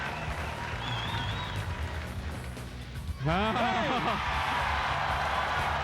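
A crowd cheers and applauds at a 2003 FLW professional bass fishing weigh-in on Lake Okeechobee. Steady crowd noise swells into a loud burst of whoops and shouts partway through, under an announcer's voice.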